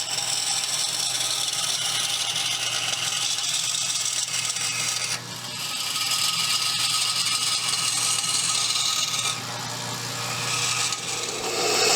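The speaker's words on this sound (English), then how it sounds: "So I'm going to go ahead and cut these first, because I'm really not sure how well this stuff cuts." Steady hand sawing through neon clock part material, a continuous rasping scrape with brief shifts in stroke and no talking.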